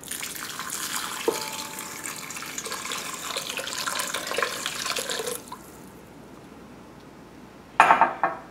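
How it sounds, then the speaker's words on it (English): Two cups of warm water poured into a bowl over salt and brown sugar for pretzel dough, a steady close splashing stream for about five seconds, then quiet and a brief clatter near the end. "And we'll top that off with 2 cups of warm water."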